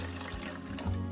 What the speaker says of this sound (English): and you can pour in your coffee